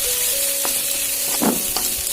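Potatoes frying in a pan with ginger-garlic paste, a steady close sizzle with faint scraping from stirring, no voices.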